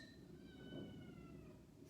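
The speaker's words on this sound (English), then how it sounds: "Sorry for anyone that can hear my kitten. She's playing by the door." A kitten playing by a door lets out a faint, drawn-out meow, heard quietly in the background of a calm room.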